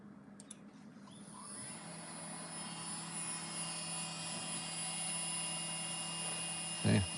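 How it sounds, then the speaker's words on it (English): A CNC machine spindle runs after start-up, a high steady whine that rises and settles into a constant drone, fairly faint, with a short louder knock at the end. "let's just fire up the spindle"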